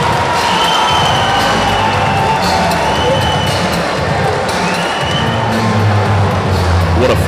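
Dense crowd roar and cheering fill an arena during a bantamweight MMA cage fight, a steady loud wash of voices with faint low thuds running underneath throughout.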